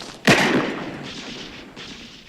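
A single sharp gunshot from the film Empire of the Sun cracks loudly near the start, then trails into a dim, sustained background wash with no talk.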